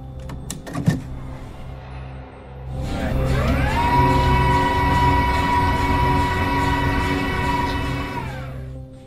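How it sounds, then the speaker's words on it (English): A Siemens 3T MRI scanner starts up after a few clicks and knocks, then drones with a loud, steady, multi-toned electronic buzz for several seconds before cutting off. "Bridget will watch 2 scenes in a Siemens 3T MRI."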